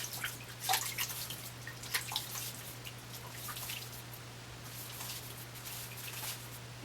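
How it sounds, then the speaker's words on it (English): Soap bloom water from a shaving soap is splashed onto the face in light, irregular wet splashes and drips, close and fairly quiet over a steady low electrical hum. "I'm going to go ahead and take this bloom water and add it to my face."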